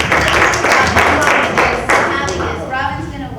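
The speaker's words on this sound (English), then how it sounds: "Round of applause," Audience applause at a Hollywood and Vine Q&A, a short burst of clapping from a crowd that starts strong and fades away over a few seconds.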